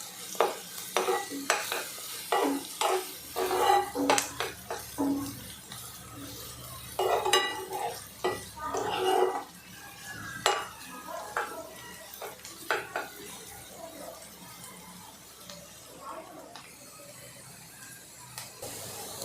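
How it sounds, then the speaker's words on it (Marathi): Onions frying and being stirred in a pan for Kashmiri-style dum aloo, with repeated scraping and clinking of a spoon against the cookware over a steady sizzle, close and moderately loud, no talking. "तर थोडा कांदा भाजत आला की त्यामध्ये आलं लसूण पेस्ट टाकून घेऊया."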